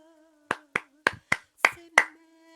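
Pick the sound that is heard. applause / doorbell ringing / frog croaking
applause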